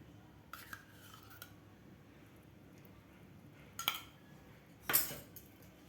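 A spoon mixes a mung dal and jaggery laddu mixture with added ghee, giving a few soft, sparse clinks and scrapes against the bowl over a quiet background, two of them sharper near the end.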